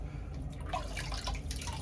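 Cold water from a tap running and dripping into a sink for a wet shave, a soft irregular trickle with small splashes, close but fairly quiet.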